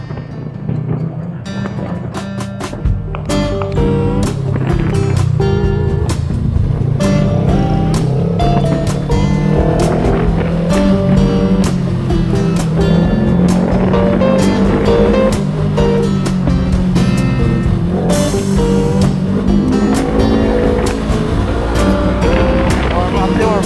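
Motorcycle cruising along the Nueva Ecija–Aurora Road through remote forest and mountains in the Philippines, its steady engine drone rumbling continuously under heavy wind buffeting for the whole stretch.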